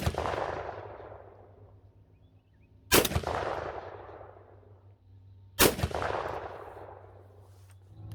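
Two loud, close shotgun blasts from a Remington 11-87 firing Fetter shells over a chronograph outdoors, each a sharp crack followed by a long rolling echo, spaced a few seconds apart with nothing else between them.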